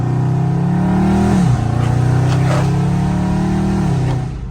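A Dodge Charger Scat Pack in track mode, engine droning loud and close from inside the car, with two quick gear shifts dropping the pitch before the sound eases off at the end.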